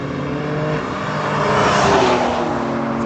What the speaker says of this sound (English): there's a lot of traffic going by